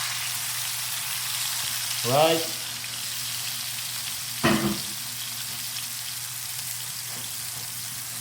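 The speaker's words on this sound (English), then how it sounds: "You should hear a good nice sizzle." Chicken pieces coated in starch sizzle steadily in a hot pan, a constant hiss under two brief bursts of cooking noise and a short spoken word.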